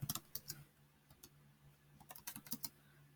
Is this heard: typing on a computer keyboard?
yes